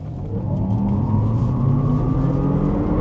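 A 2026 Hummer EV SUV 3X pulls away from a standstill, its electric motors rising in a steady whine over a constant road rumble that builds smoothly for about three seconds, heard from inside the cabin.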